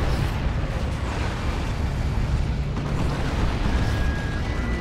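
Rocket Run explosions boom in the Dawn of War 2 video game during a 3v3 battle, making a dense, continuous roar of rumbling blasts and bursts that stays loud from start to end.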